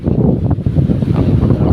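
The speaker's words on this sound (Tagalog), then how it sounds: "Malakas ang hangin, malaki alon." Strong wind buffeting the microphone at sea amid big waves, a loud, continuous roar with rough surging noise from the water.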